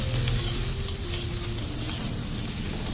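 Chili tempering sizzles loudly and continuously in hot oil at a street chaat stall, a dense close hiss with faint clinks and a low hum of background noise.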